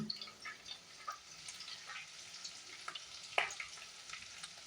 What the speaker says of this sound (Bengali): পেঁয়াজ আর রসুন ভাজা হয়ে গেছে